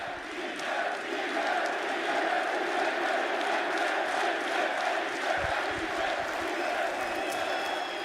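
Home crowd at an esports arena in Cluj-Napoca during a Counter-Strike semifinal, a sustained roar of cheering and chanting that holds steady throughout.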